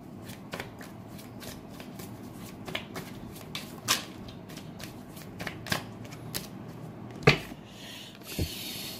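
Tarot cards are shuffled by hand and drawn, giving a steady soft riffling with several sharper snaps and slaps of cards landing, one especially crisp near the end, close and clear with no talking.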